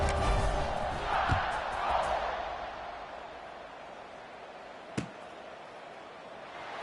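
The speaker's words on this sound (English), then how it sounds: "this crowd is buzzing after that last score" Stadium crowd in the College Football 26 video game hums as a steady broad buzz, with a swell early on and a sharp thud near the end, no talk over it.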